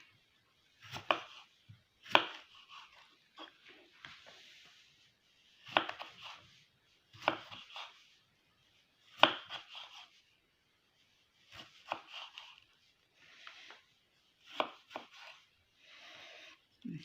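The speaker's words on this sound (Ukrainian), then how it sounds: "Огірочок я поріжу полосками." A knife slices cucumber into thin strips on a board for homemade shawarma, giving a series of crisp chopping taps in short bursts with pauses between, close and fairly quiet, with no talking.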